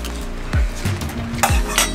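Pork adobo gets a short mix in a camping pot: a few close metallic clinks and scrapes of a utensil against the pot over about two seconds, with no voices.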